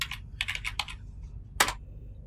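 Fingers type on a computer keyboard to log into a terminal, a quick burst of close key clicks, a pause, then one firm keystroke.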